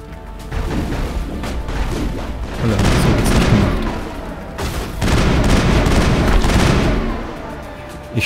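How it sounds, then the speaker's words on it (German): Bursts of video game gunfire from Mass Effect, loud booming volleys fired in repeated salvos with short pauses between them, with no talking over the shots. "Ich schieße übrigens immer in Salven, weil die Waffe sich dann nicht so schnell aufheizt."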